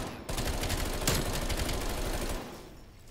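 An unsilenced Bullfrog submachine gun fires in Call of Duty Cold War, a rapid, steady stream of close, loud shots that runs for about two seconds before cutting off.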